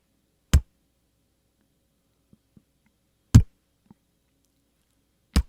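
A Minimoog synthesizer's third oscillator runs at its lowest speed, producing three isolated low thumping pulses a few seconds apart, with faint soft ticks between them.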